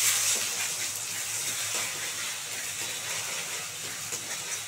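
Food frying in a pan after salt and black pepper are added, a continuous bright sizzling hiss that stays fairly loud and even throughout, with no talking.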